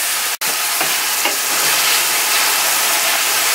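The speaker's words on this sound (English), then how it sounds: "I'm just going to go ahead and add my steak in. And then to that I'm going to add my pimento seeds" Steak and pimento seeds fry in a hot pan for a Jamaican pepper steak, giving a loud, steady sizzling hiss throughout with one brief dropout near the start.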